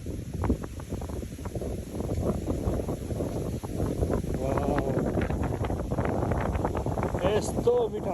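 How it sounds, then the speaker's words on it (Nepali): Wind blowing beside a lake in Korea, a continuous rough rumble buffeting the microphone, with a voice faintly audible in the later part. "यस्तो मिठो हावा चलेको छ, यस्तो मिठो हावा"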